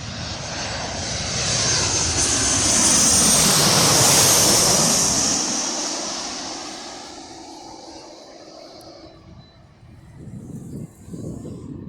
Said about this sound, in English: That's nice, a Jet 2 Boeing 737.